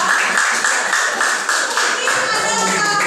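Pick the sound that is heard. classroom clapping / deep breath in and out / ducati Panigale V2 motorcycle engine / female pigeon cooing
classroom clapping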